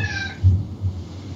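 A pet cat gives a short meow at a moderate distance, with a couple of brief soft murmurs afterward in a quiet indoor room.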